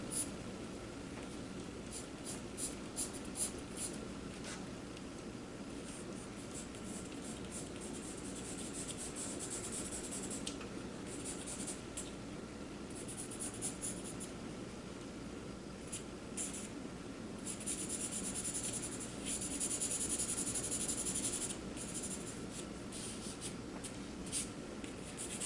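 Charcoal scrapes and rubs across paper in steady strokes during a portrait master study, soft and close, with short bursts of quicker scratching among longer shading passes.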